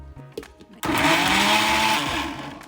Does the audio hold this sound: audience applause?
no